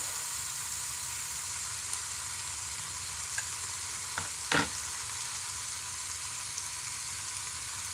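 Food frying in a grease pit, a steady close sizzle and crackle running the whole time with a couple of brief clanks of utensils.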